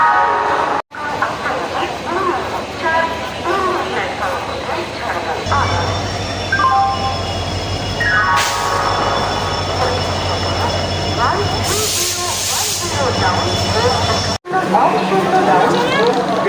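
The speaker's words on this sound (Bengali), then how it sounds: "আটটা পনেরোয় ট্রেন কিন্তু ঢুকছে" The Falaknuma Express train rumbles into a station with a low mechanical drone, high squealing wheels and a brief horn-like tone, under steady crowd chatter and announcements.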